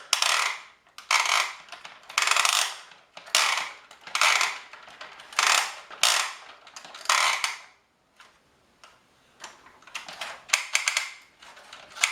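A small PJ Masks toy elevator mechanism whirs and clatters in repeated rhythmic bursts with brief pauses, close and moderately loud, no voices.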